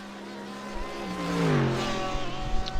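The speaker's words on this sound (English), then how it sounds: "I hate that sound. We're never driving the Porsche 911." A Porsche 911 engine in the iRacing sim at Suzuka whines thin and high, pitch sliding down and then climbing again as the car revs, heard alone with no talk.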